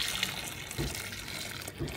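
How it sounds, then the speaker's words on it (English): Boiling water is poured into a pot holding oxtail and beef stock for a stew, a quiet close splashing pour with a few soft bursts and gurgles. "and then also add in boiling water."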